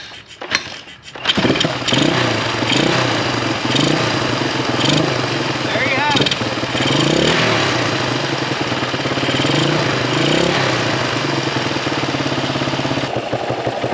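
A Honda dual-sport enduro motorcycle fires up on a kick start and settles into a loud, close, steady engine roar with rough throttle blips.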